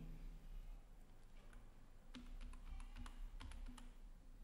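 Typing on a computer keyboard, a quick burst of crisp close key clicks after a quiet start, with a faint background hum and no speech.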